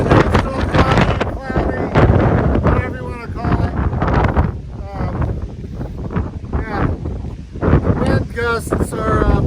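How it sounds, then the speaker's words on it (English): Strong wind gusts on the summit of Goose Eye North Peak roar and buffet a nearby microphone, a loud continuous rumble swelling and easing throughout while someone talks over it. "Gusts are blowing me around."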